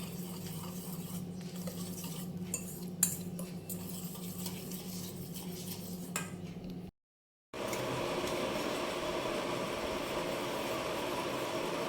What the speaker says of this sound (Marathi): टाकल्यानंतर आपल्याला याला घ्यायचं मिक्स करून.